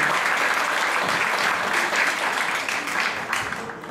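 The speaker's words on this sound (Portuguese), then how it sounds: "eu quero primeiro que uma salva de palmas para o Yuri" Applause for Yuri and Arthur from an audience at a film screening and discussion night, a dense, steady wash of many hands clapping close by, sustained for about four seconds and tapering slightly at the end.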